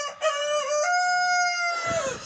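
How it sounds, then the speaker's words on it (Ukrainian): A Foxy Master rooster crows once, loud and close, a long drawn-out call that trails off at the end. "У мене зараз 7 когутів"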